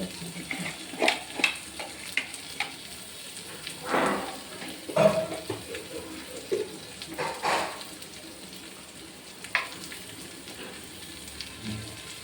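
Chopped onions fry in a pan for a small-fish curry, giving a quiet, steady sizzle with scattered crackles and a few louder stirring scrapes, no voices.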